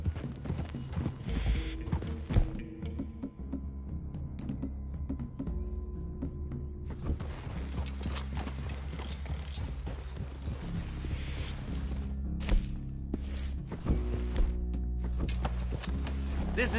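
Horses walking in the Red Dead video game, with a steady clip-clop of hooves under a continuous low musical or ambient bed, loud and close throughout.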